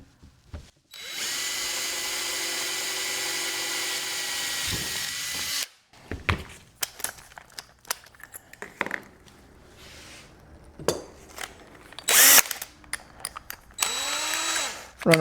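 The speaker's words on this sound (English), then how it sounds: "Runaway drill bit." A power drill runs steadily for about five seconds while a T-shirt launcher is built, then stops, followed by clunks, taps and several short bursts of the drill.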